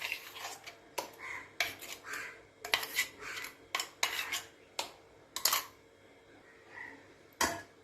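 A spoon stirring ginger garlic paste in a bowl or jar, a string of faint, irregular clinks and scrapes with short pauses between strokes.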